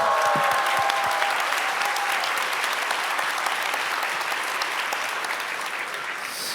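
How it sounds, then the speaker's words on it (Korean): A church congregation at an all-member retreat breaking into loud, sustained applause that fills the room for several seconds, slowly tapering toward the end, with a brief tone at the start. "박수"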